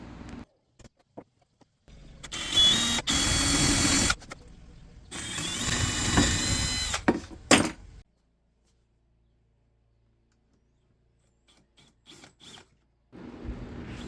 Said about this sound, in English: So we drill our hole